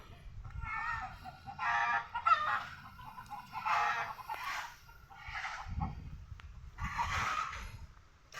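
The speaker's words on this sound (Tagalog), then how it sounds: "may mga manok din dyan sa kulungan dyan" Chickens and fighting cocks kept in a coop cackle and cluck in repeated bursts at moderate distance, with low thumps and shuffling between calls.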